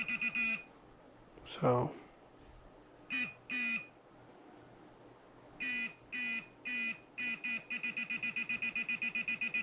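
Short electronic beeps from a Sunpow IP68 metal detector pinpointer sound in bursts, then speed into a rapid steady beeping; one brief spoken word and a rustle are heard early on.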